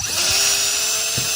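An electric drill runs continuously with a steady high whine while drilling a hole in a part for a spoked wheel. It sounds loud and close, with a few faint low bumps, and no one speaks.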